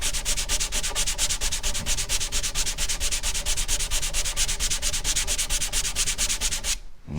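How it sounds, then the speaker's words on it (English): Sandpaper on a block sanding a wet finish into a walnut dovetail box, a steady close back-and-forth scratching rhythm with even strokes throughout, ending abruptly. "while it's still wet, take sandpaper on a block."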